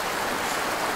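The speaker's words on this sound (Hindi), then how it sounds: "बहता हुआ पानी" Water runs steadily down a stream outdoors, a dense, even rushing wash that carries on for about a second with no break and no voices over it.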